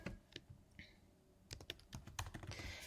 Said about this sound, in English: So you just have to type their name here